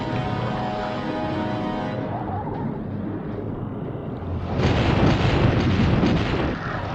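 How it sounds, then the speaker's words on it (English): A blast in the underwater game Jaws Unleashed, heard as a loud, sustained rumbling roar that swells into a heavier burst near the end, with no talk over it. "what would normally kill us instantly in other levels from that being that close to an explosion does nothing here"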